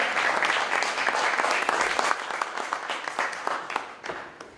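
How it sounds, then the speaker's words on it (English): An audience at a Hispanic Heritage Cultural Institute presentation to an assemblywoman in Buffalo, New York breaks into warm, sustained applause, dense clapping that stays strong and then begins to thin toward the end. "And you can clap."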